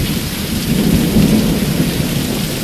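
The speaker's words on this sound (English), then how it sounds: "That was a wild storm and it's been going on for a couple hours." A heavy thunderstorm with steady, loud rain pouring down and a low thunder rumble swelling through the middle, with no voices.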